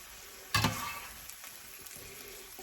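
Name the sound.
sausage and zucchini soup mixture sizzling in a pan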